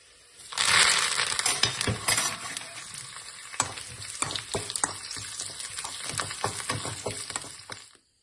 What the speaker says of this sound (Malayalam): ഇതായി കഴിയുമ്പോൾ നമുക്ക് ഇതിലേക്ക് കറിവേപ്പില വറുത്ത് കോരി മാറ്റി വെക്കണം